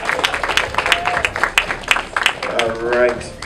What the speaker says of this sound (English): We'll give a big round of applause to Kamal Hunt.